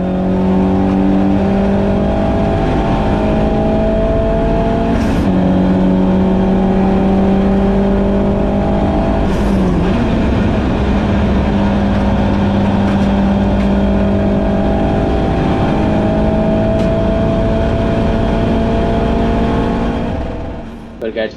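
A race car engine at full song during a club race at Silverstone GP, a loud continuous in-car drone with steady tones that shift as it brakes and accelerates, covering nearly twenty seconds.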